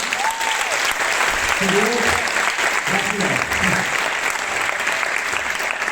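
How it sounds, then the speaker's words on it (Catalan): A theatre audience at a graduation ceremony applauds the technical team with steady, sustained clapping while a voice briefly offers thanks over it. "tot l'equip tècnic, sisplau, un aplaudiment"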